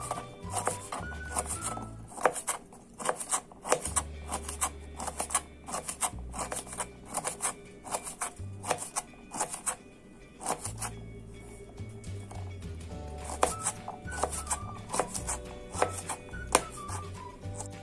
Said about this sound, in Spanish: Vamos a comenzar a picar las habichuelas. Bien menuditas.